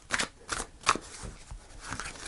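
Tarot cards being cut and shuffled by hand, a few soft quick riffles and slaps of card stock in short bursts, quiet and close.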